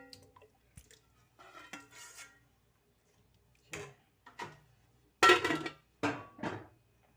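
Pots and utensils clink and clatter while cooked moong and masoor dal is added to a pan, with sparse separate knocks and scrapes between quiet gaps and a louder clatter near the end.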